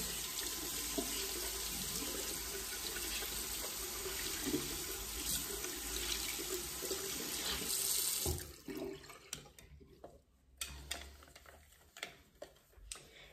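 Hot tap water runs steadily into a sink while makeup brushes are washed, a loud continuous splashing stream for about eight seconds, then cutting off to leave quieter drips and handling noises.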